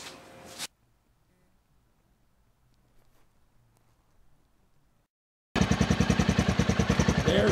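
Honda 15 HP four-stroke outboard engine idling, a loud steady pulsing chug that starts abruptly after a few seconds of near silence, with a brief burst of noise at the very start.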